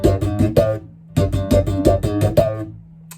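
Bass guitar played double thumb slap style without left-hand pull-offs, loud close clusters of sharp percussive slapped notes in two phrases separated by a brief pause, no talk.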